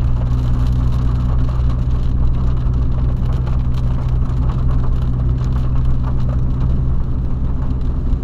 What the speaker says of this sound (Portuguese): Olha, a chuva tá forte pra lá, hein?